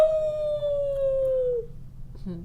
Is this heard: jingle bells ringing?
no